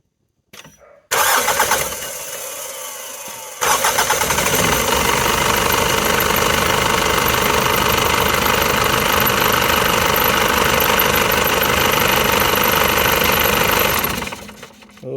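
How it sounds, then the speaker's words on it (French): A car engine, serviced during an oil change, cranks over and starts, then runs steadily and loudly for about ten seconds with a rough, knocking idle before it is shut off. "mets le moteur, 10 secondes"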